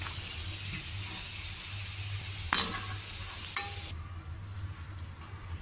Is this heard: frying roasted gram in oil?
yes